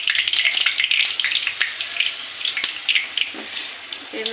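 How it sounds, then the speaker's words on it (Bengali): Male pumpkin flowers fry one at a time in a pan for pumpkin flower chops, giving a steady crackling sizzle with wet, watery spitting throughout. "এইভাবে সব ফুলগুলো এক এক করে ভেজে নিতে হবে।"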